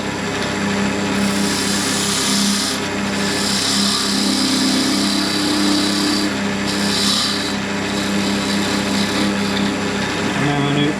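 Wood lathe turning an olive log with a hand-held chisel: a steady close rasping, rubbing scrape over the hum of the spinning lathe, swelling and easing as the tool is pressed in.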